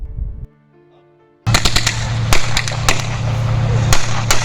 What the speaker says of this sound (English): Suppressive fire from the tank. They're using high explosive.